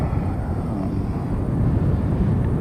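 An airplane on the Rotorua flight produces a loud, broad steady roar, a dense low rumble with airy hiss that holds evenly throughout, as if passing fairly close.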